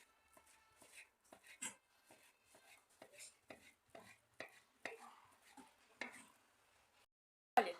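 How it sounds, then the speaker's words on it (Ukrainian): A knife taps quickly on a cutting board, chopping boiled eggs in an uneven run of soft, close knocks, ending with one louder clack. "нарізаю варені яйця."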